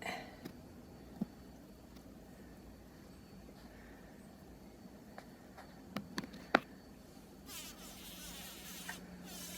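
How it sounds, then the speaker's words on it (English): An insect, a bee or wasp, buzzes steadily and faintly while caught by a spider in the open air near a damson tree, with a few small clicks and a brief rustle toward the end. "This bee or wasp is trying to get away from the spider,"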